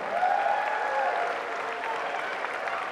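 A crowd at a women's college basketball game applauds for Randy Dunn, a steady wash of clapping that holds at an even level throughout, with a faint voice briefly heard over it.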